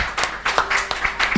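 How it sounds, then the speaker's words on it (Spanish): A church congregation claps in praise during a service, a fairly loud, close patter of irregular hand claps. "Damos un aplauso a Cristo."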